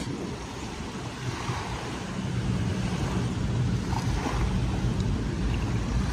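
Steady wind sweeps over Manila Bay, a continuous low rushing roar that buffets the microphone and slowly grows louder, with a faint wash of water beneath and no voices.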